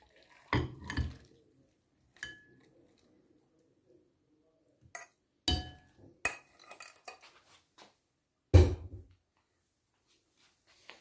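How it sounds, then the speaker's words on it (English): Boiled water being stirred in a pot, heard as a few sharp metallic clinks and knocks of a utensil against the pot, separated by near silence, with faint sloshing between the strikes. "So after boiling, we are going to stir the water."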